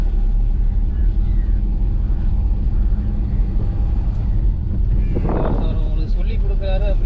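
Car driving through a village and shifting into third gear, a steady loud engine and road rumble with wind buffeting, a brief rise partway through, and someone talking over it.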